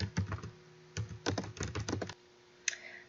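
Computer keyboard typing while writing HTML, bursts of rapid close key presses with short pauses, alone with a faint hum, ending in a single sharper click.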